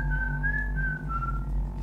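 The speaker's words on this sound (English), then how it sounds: "It's called whistling." Someone whistles a steady, slightly wavering note over a loud low droning hum.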